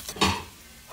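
Garlic dropped into a little olive oil in a pan gives a brief, soft sizzle with a faint stirring scrape, heard close and alone.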